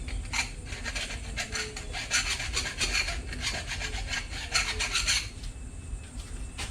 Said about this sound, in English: I'm just taking another file, and now I'm just taking out the outside burrs on this handle